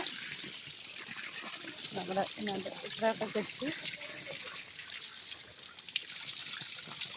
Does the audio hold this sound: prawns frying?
no